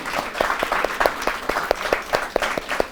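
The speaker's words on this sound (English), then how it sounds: "let's give them a big round of applause." An audience applauds alumni guests at a talk show, a steady round of clapping with individual sharp claps standing out, close and lively throughout.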